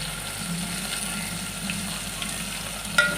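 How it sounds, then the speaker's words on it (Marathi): Tomatoes and chilies sizzle and fry steadily in a pan for veg biryani, with a steady crackle and soft stirring, then one brief clink near the end. "टमाट्याला सुद्धा मस्त चांगलं हलवून घेऊया"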